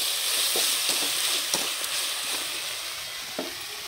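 Onions and tomatoes fry in a pan, giving a steady close sizzle broken by a few light scrapes and taps of a stirring spoon, with no voices.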